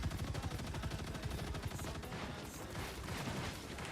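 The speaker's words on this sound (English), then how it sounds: "The turrets slowly pushing them back. The firing squad of turrets." Turrets firing in the video game Marvel Rivals, a dense, continuous rapid stream of shots over heavy game noise, steady and loud throughout.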